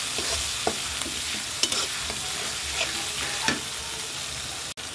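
Spice paste for a fish curry with bitter gourd, potato, tengra and shing fish sautés in a pan, giving a constant close sizzle broken by a few spatula scrapes and knocks.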